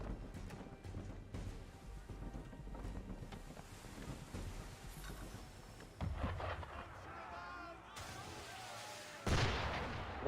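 Ship cannons fire at sea in Assassin's Creed 3, heavy booming shots over wind and ocean noise, with a sharp blast near the end, and voices speak amid the gunfire.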